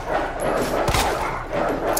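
Dogs bark and yip in the kennel area of the police station in the video game Resident Evil 2 Remake. Short, sharp calls burst out of a dense, noisy game soundscape.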